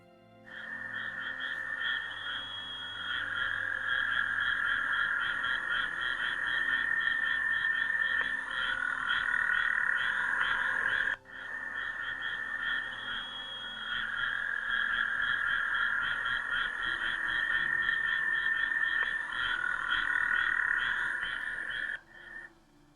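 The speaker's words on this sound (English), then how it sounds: "That's what the frogs sound like." Frogs calling outdoors just outside a house door, a dense, steady, pulsing chorus of rapid trills that carries on almost unbroken, close and fairly loud, with one brief dip midway and no voices.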